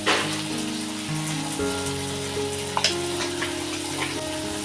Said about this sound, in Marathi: ह्याच्यामध्ये ना थोडंसं मी आलं लसूण पेस्ट टाकते बघा थोडीशी आणि हळद टाकते